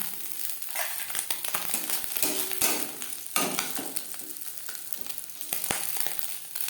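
Small puti fish fry crispy in hot oil, giving a close, steady crackling sizzle dotted with sharp pops and spatters, with no talking.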